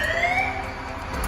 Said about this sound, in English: Turn the siren on.